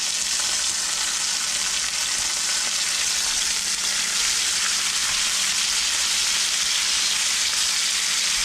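Chicken pieces fry in a pan, giving a loud, steady, dense sizzle that holds evenly throughout with no talking.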